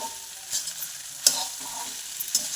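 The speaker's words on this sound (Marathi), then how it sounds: "भिजवलेला साबुदाना त्याच्यात टाकून घ्यायचा असं छान हलवून घ्यायचं" Soaked sabudana is stirred into a pan for fasting khichdi: quiet, scattered scraping strokes with a few sharper clicks of the spoon over a soft sizzle, and no voices.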